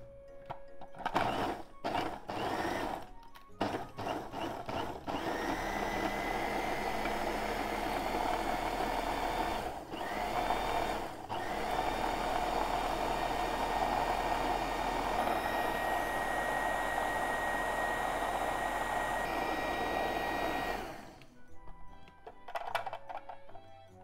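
A food processor whirs steadily as it blends kabocha squash with milk for a flan, a continuous motor drone with a few short stops and restarts near the start that cuts off toward the end.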